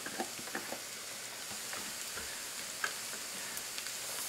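Diced yellow onion, medium to large, starting to sauté in a hot pan for jambalaya: a faint, steady sizzle and hiss with small scattered ticks and pops throughout.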